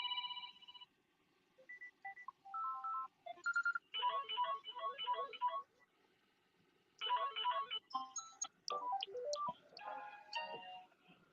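A phone ringtone plays a melodic electronic tune in several bursts with short gaps, fairly loud and close, with no talking over it.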